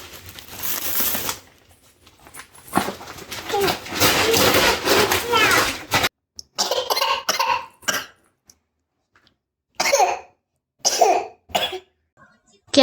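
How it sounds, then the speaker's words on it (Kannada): A two-year-old child coughs indoors, a few close, loud coughs breaking up stretches of talking from an adult and the child. "ಕೆಮ್ಮು ಬಂದಿದೆ"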